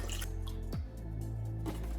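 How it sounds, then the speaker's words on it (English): Roux being poured into a seafood broth, a thick wet glug and splash with a brief sliding drip sound, close and alone. "we're gonna pour our roux to our seafood broth here"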